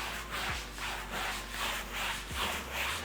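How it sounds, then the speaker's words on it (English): A stiff brush scrubs cleaner into a convertible's fabric soft top, about eight quick, steady back-and-forth strokes. The raspy, close rubbing fills the clip with no one talking. "I'll take a brush. I'm going to be brushing it in two different directions."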